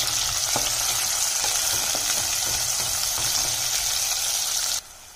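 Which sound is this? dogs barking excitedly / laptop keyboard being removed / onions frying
onions frying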